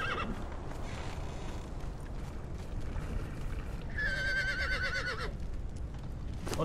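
A horse in the video game Conan Exiles gives a single clear whinny lasting about a second, over a steady low rumble and soft hoof clopping.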